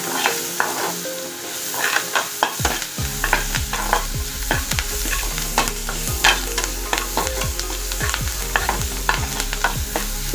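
Salted vegetables sauté in a hot pan, with a constant close sizzle broken by quick, repeated scraping strokes of a stirring spoon.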